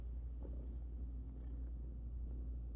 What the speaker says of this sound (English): Maybe you can even hear that purr.